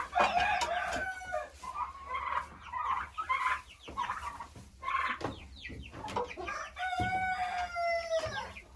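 Turkey poults chirp and peep in a busy chorus, with scattered clucks and high calls overlapping throughout, fairly close.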